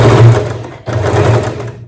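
A sewing machine stitching fabric runs loud and close in a steady mechanical whir, stops for a moment, then starts up again for a second run.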